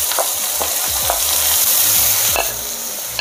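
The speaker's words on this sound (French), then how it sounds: "Une fois que notre huile d'olive est chaude, hop, on y fait glisser voilà, nos petits cubes de poivrons" Diced bell pepper cubes slide into hot olive oil and fry with a loud, steady broadband sizzle, punctuated by several stirring scrapes and knocks from a utensil against the pan.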